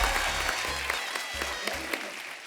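A studio audience at a comedy talk show claps in a short burst, brisk and fairly loud, while low thumping music beats run underneath.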